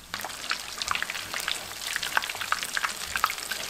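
Quesadilla-wrapped hot dogs fry in hot oil with a busy, close crackle of popping, spitting bubbles over a steady sizzle, and no one speaks.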